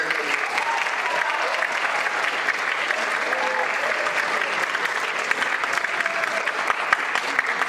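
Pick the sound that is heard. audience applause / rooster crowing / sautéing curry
audience applause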